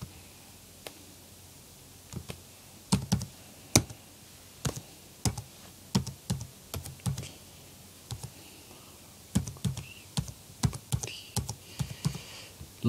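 Typing on a computer keyboard, with irregular bursts of close, crisp key clicks and taps, sometimes quick runs and sometimes single strokes, over a quiet room.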